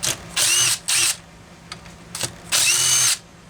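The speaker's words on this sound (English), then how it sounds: "Let's get this muffler off and we'll see what the heck it is we're looking at." Power driver removing the muffler from a Homelite Super EZ Automatic chainsaw, several loud whirring bursts of varying length with short gaps and light clinks between them, close up.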